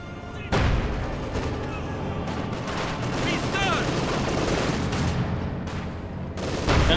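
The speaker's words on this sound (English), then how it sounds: "Gunners here firing, 26 kills." Machine guns firing in a Company of Heroes 2 battle, with continuous dense gunfire bursts and booms filling the whole stretch, loud and close over a busy combat soundscape.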